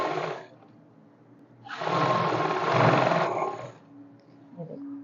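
Sewing machine running through finishing stitches on the front panel of straight trousers, two bursts of steady whirring, the second longer and louder, with quiet gaps between.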